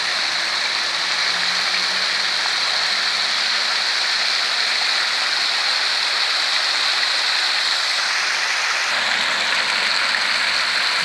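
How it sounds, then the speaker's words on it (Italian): Fountain jets splashing steadily in piazza Garibaldi, Gemona del Friuli, a continuous close hiss of falling water that runs unbroken throughout, with a slight shift in tone near the end. "Gemona, piazza Garibaldi con la sua fontana."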